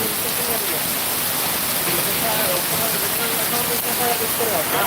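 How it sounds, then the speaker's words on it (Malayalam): Heavy morning rain pours in Puppalaguda, Hyderabad, a dense, steady hiss and roar that stays loud and unbroken throughout. "ഹൈദരാബാദിലെ പുഞ്ചക്കോട്ട എന്ന് പറയുന്ന സ്ഥലത്താണ് ശക്തമായിട്ട് മഴ"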